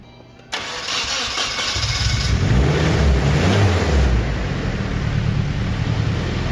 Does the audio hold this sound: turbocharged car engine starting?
yes